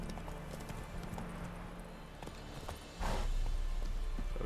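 Horse hooves clip-clopping in a steady galloping rhythm in the video game Witcher 3, close and continuous, swelling louder near the end.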